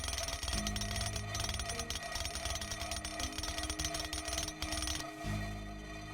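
A hammer being repaired at a workbench in the video game Rising World, heard as a rapid, loud mechanical clattering and rattling that runs for about five seconds over a low hum before cutting off.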